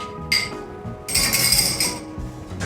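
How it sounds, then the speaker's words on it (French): A bar spoon clinks against the inside of a mixing glass while a cocktail is stirred, giving a few close, bright glassy chinks and a longer stretch of rapid rattling with no talking. "stirrer, c'est mélanger avec la cuillère directement dans le verre à mélange."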